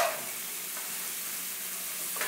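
Onions, garlic and prosciutto sauté in a pan for pasta carbonara, giving a steady, close, moderately loud sizzle with faint stirring, with no talk over it.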